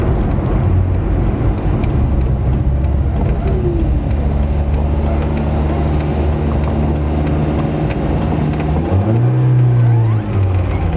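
A Renault 11 GTL on its first drive after 13 years unused, its accelerator pedal stiff and likely seized, holds a loud steady engine drone with road noise, then rises in pitch as it accelerates near the end.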